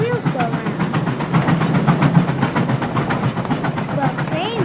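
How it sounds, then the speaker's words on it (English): The Skunk Train steam locomotive in California chugs in a steady, repeating rhythm as its pistons drive the wheels, a loud rumble running beneath a voice speaking over it. "That chugging sound is the noise the piston makes when it moves back and forth to make the wheels go round."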